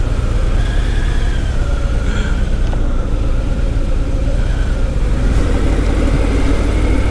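A Harley-Davidson Fat Boy 114 with its 1800 cc engine idles in a traffic jam, a steady loud low rumble running throughout with faint vehicle noise around it and no talking.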